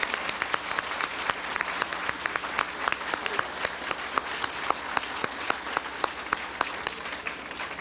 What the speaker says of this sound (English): why don't we give Dr. Clark a round of applause